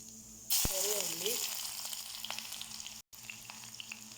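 Small shallots drop into hot oil for a moru curry tempering and burst into a loud, close sizzle that slowly settles into a steady frying hiss, with a brief vocal sound near the start.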